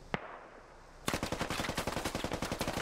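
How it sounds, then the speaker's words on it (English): Gunfire in the SquadOps game: a single sharp shot, a brief pause, then a rapid burst of automatic fire with loud, evenly spaced cracks lasting nearly two seconds, close and with no talking. "Sasa getting shot at"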